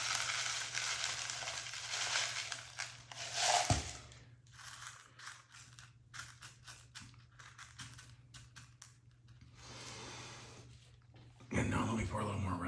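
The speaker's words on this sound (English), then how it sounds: "Let me pour a little bit more glass in here." Broken black glass pieces poured into a resin mold make a rattling, crunchy clatter of small shards sliding and clinking, irregular and close, with pauses and a brief louder burst near the end.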